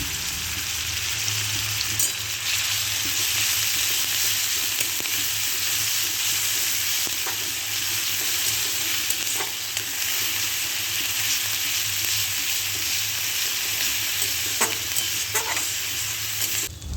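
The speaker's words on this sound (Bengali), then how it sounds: "এরপর বেটে রাখা পেঁয়াজটা তেলের মধ্যে দিয়ে দিলাম।" Onion paste fries in hot oil in a wok for a jackfruit kalia, giving a steady, close, continuous sizzle with occasional stirring scrapes and no speech.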